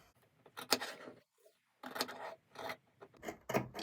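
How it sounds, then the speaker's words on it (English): Scissors snipping and trimming cotton fabric of a small oven dress tea towel, a few close, crisp cutting strokes in bursts separated by brief pauses. "I take my scissors and I just trim this out"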